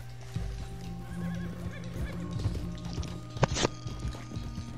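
An Arabian stallion in Red Dead Redemption 2, loose during a mission: a loud whinnying neigh over clip-clopping hooves, with sharp hoof thuds and a brief bright crack near the end, no speech.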